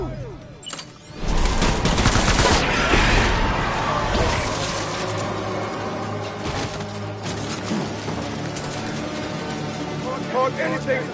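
Heavy gunfire in Death Stranding video game erupts after a brief pause, a sustained loud barrage with crashes and mechanical clatter continuing throughout, with voices mixed in.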